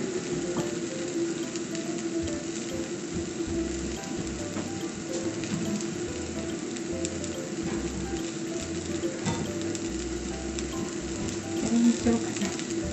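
A cabbage pancake with cheese fries in a pan over medium-low heat, giving a soft, steady crackle, joined by faint clicking and rattling mechanical sounds that continue throughout without any voices.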